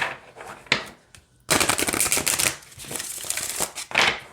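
A deck of oracle cards is riffled and shuffled by hand in quick, crisp bursts of papery flutter and snapping, close up and loud, with no talking.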